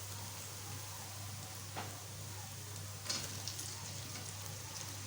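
Tomatoes go into a pan of frying onion, garlic and ginger, giving a soft, even sizzle with a couple of brief stirring knocks over a low background hum.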